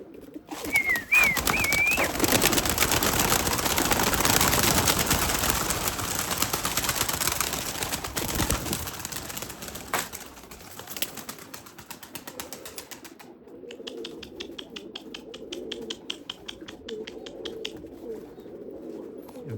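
Erzurum white breeding pigeons coo near the microphone, with soft repeated calls over a busy background that thins out toward the end.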